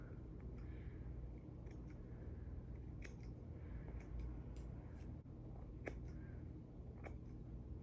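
Scissors snip through a person's own hair as they trim about an inch off, making quiet, irregular clicks over a steady low room hum.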